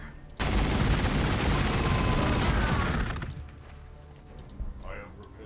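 Predator tank weapons in Warhammer 40K Gladius fire continuously in a dense, loud rattling barrage of rapid shots for about three seconds, then break off, leaving a softer rumble and a couple of muted thuds.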